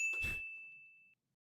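A quiz contestant strikes a bell once, giving a single bright ding that rings clearly and fades steadily for about a second before stopping, heard alone with no talk.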